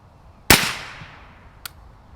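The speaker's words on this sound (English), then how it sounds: "let me shoot a little bit further downrange" A single suppressed shot from a 300 Blackout rifle fitted with an LMT ION 30 suppressor, a sharp loud crack with a decaying tail, followed by a faint distant impact about a second later.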